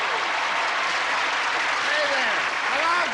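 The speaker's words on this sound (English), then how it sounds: "A little applause for the stars there." Studio audience applause greets the stars of a 1983 television game show, a dense, steady wash of clapping with cheering voices rising and falling throughout.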